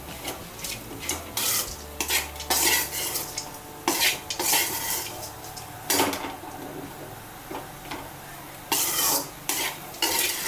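Idiyappam tossed and stirred in a pan with a metal utensil, giving repeated scraping clinks and clatters in uneven bursts over a soft background sizzle, close up with no talking.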